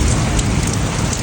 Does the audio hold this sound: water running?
no